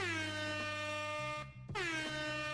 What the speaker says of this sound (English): That was a late air horn on that one.